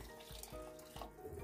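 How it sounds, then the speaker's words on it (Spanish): Boiled water poured into a pan of sautéed seasoned rice, a faint hissing splash and sizzle with rhythmic pulses of pouring, quiet and close. "vamos a echar agua hervida"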